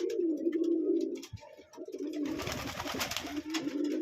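A racing pigeon in a hobby loft gives a steady, close, low rolling coo, broken midway by a short burst of rustling or wing-flapping before the cooing resumes.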